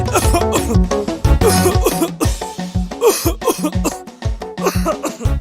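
Repeated harsh coughing from a broadcast ad for herbal cough lozenges, loud and close, with bursts that come in quick clusters over background music.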